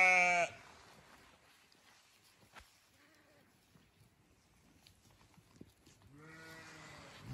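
Sheep bleat loudly up close at the start and again near the end, with a quieter stretch between holding faint, scattered sounds.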